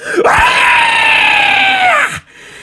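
A shrill, sustained scream from a voice, loud and close, holding a high wavering pitch for about two seconds before cutting off abruptly.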